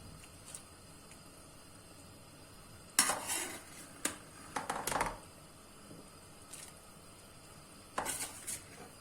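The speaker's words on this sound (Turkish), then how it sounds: "Ve şimdi köftemizi ilave edelim." Meatballs are added to a pan of cooking spinach. Intermittent metallic clinks and scraping clatters from a utensil and pan stand out over a faint, quiet kitchen background.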